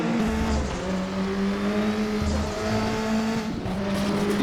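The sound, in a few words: racing car engines revving at Knutstorp Ring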